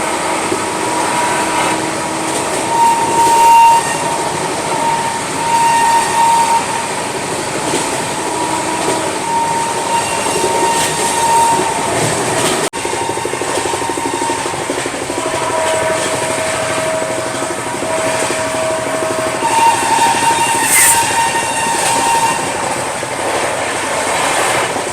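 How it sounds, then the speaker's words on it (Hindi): Howrah-NJP Shatabdi Express running at about 130 km/h, heard from inside a Vistadome coach: a steady, loud rolling roar with rail rumble and faint tonal whine throughout, no talking. "अभी हम ट्रेन ने 130 की स्पीड जो है अचीव कर ली है"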